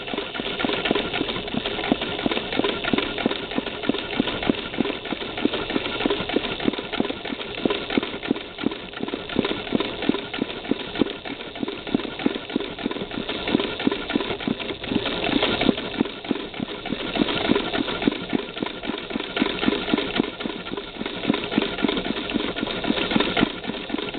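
A motorized 1959 Singer Spartan sewing machine works a satin-stitch embroidery in a hoop. It gives a fast, steady rhythmic chatter of needle strokes over a motor hum and runs loud and close the whole time.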